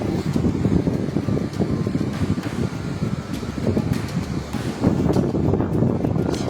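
Strong wind gusting beside the Lintang river in Empat Lawang under a suddenly overcast sky, a loud, continuous rushing roar that buffets the microphone throughout.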